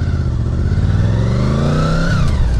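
A motorcycle fitted with a sport exhaust revs hard and close, its loud, rough engine note rising steadily and then dropping back near the end, with no talk over it.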